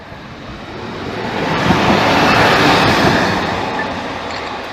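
Class 153 diesel unit 153302 bound for Peterborough passes a level crossing, a broad rumbling roar of wheels and engine swelling to a peak midway and easing off, close and loud with no talk.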